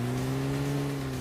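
A steady engine drone from a car in a video game, heard briefly and faintly as it drives a short way, with no talk.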